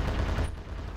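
Machine gun fire in the Ravenfield World War II mod, a dense, loud rattle of rapid shots that eases slightly partway through the second without a clear break.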